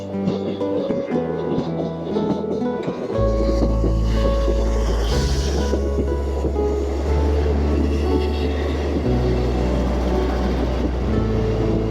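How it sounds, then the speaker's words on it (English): A train rumbles past with a deep, steady low drone and rattling carriages, its sound swelling as it passes nearby. "Comes the London train."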